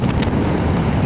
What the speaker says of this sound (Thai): ลมแรงทำไมลมรั่วเข้าหมวกวะ